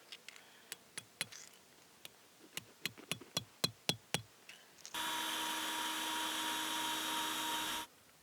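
Sharp metallic taps bash around the edge of an old rusty bottle cap, shaping it into a washer for a classic Land Rover Defender's dash: about a dozen distinct hits in an uneven rhythm, then a steady loud whirring hum takes over.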